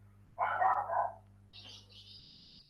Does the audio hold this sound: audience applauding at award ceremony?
no